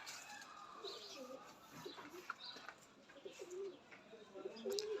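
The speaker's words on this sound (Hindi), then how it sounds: "किस म्यार के ये कबूतर है।" A pair of teddy pigeons coo softly in a loft, low throaty rolling calls repeating at intervals amid faint background chirps and ambient noise, fairly quiet and close.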